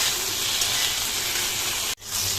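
Ginger paste frying in a pan, with a steady loud sizzle and hiss running throughout, a faint scraping of stirring underneath and a brief drop near the end before the sizzle resumes.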